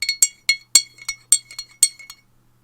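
A spoon clinks against a tea cup about a dozen times in uneven quick taps, bright ringing clinks close by, each decaying quickly, with no talk.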